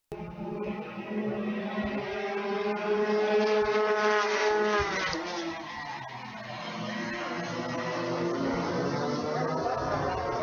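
Rotax-powered Tony racing karts in a Tag Masters final at a WKA Manufacturer's Cup event, engines droning loud and continuous with rising and falling pitch as they pass near, a broad wind-like roar throughout.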